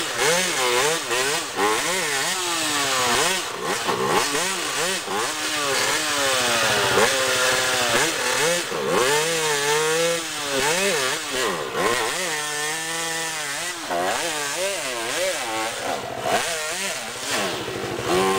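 A Kawasaki KX dirt bike engine on a trail, loud and close, revving up and down repeatedly in a rough two-stroke buzz with constantly rising and falling pitch, no talking.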